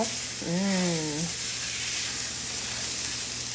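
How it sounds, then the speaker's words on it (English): Chicken browning with half an onion added sizzles steadily in a hot pan, a soft continuous frying hiss, while a voice briefly speaks over it. "while these are browning, we're gonna go ahead and add the onion"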